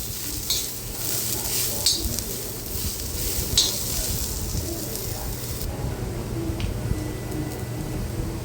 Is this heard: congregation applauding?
no